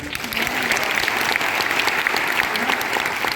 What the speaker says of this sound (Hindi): आपने ताली बजानी है